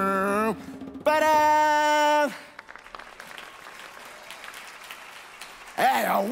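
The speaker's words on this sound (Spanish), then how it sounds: "¡Por favor, que se escuchen esos aplausos!" An audience at a spring day festival stage show of Aladdin claps and cheers, a loud burst of applause between stretches of amplified sung or shouted voices from the stage.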